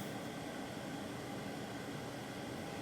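A fan gives off steady, faint white noise, an even unbroken hiss with no changes or voices.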